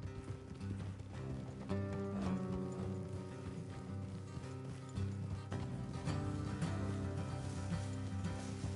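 Horse hooves clip-clop steadily across Red Dead Redemption's open terrain, a continuous rhythmic trot that sits beneath a dense layer of game music and ambience.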